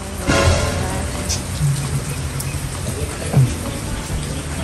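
Steady rain falls outdoors, a continuous broadband hiss with a few louder bursts of splashing or rumble, heard up close.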